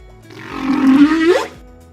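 A single creature roar for the Belippo ability in a Minecraft mob concept, a low growl that swells and sweeps upward, about a second long, loud and alone.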